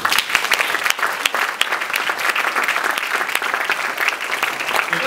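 Audience applauding at a mobile operators' panel discussion, dense rapid clapping from many hands, loud and sustained, with a few sharp individual claps standing out.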